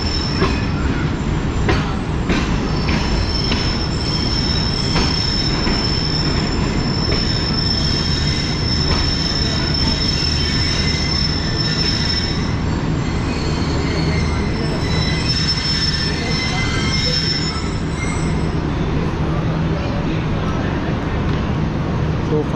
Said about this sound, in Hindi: तो फाइनली खानेवाल जंक्शन पर ट्रेन पहुंच चुकी है।